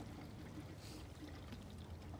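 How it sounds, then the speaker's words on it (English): Acid cell cleaner poured into a pool salt cell, a faint steady trickling pour of liquid close by with no talk. "You pour it into the salt cell."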